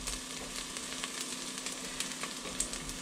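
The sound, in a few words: onions frying in oil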